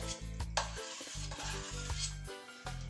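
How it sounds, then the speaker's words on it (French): A utensil scrapes the bottom of a pan to lift the browned bits with port wine while a Portuguese stew cooks. The rhythmic stirring strokes come with a soft sizzle, and a steady background tone runs beneath. "ça nous permet de décoller tous les sucres qui sont attachés au fond de notre casserole"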